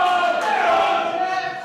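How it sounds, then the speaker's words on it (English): Crowd noise at a live skittles match in a pub alley, a loud sustained swell of massed voices and shouting that fills the whole moment. "Just hear the crowd in the background."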